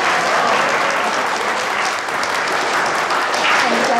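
An audience at a ceremony in a school bursts into applause for a guest teacher coming on stage, a dense, loud, sustained clapping that fills the whole stretch with no voices.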